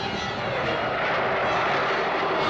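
Jet aircraft roar from the Captain Scarlet and the Mysterons episode "Seek and Destroy" as Melody's jet pulls out of a dive; a steady, loud, broadband rushing engine noise holds throughout with no speech.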